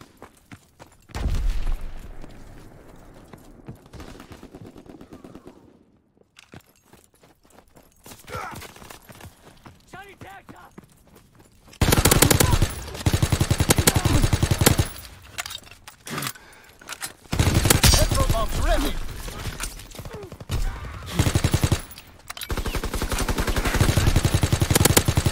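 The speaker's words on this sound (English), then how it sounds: "Keep firing." Gunfire in the World War II shooter game Call of Duty WW2, loud bursts of automatic fire and rapid shots in several long, dense stretches separated by quieter gaps, with little talk.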